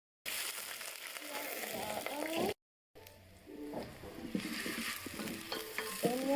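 Onions go into hot oil in a sufuria and fry with a loud close sizzle, which cuts out briefly and then returns with stirring scrapes. A voice speaks faintly over parts of it.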